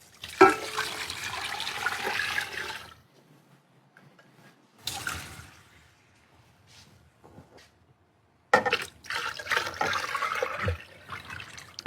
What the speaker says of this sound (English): going to add 6 liters of water